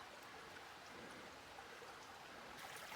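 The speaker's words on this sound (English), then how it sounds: "Right here by this little burbling creek." Small burbling creek along Borden Creek Trail in the Sipsey Wilderness, Alabama, giving a steady, soft wash of running water with no pauses, faint and even throughout.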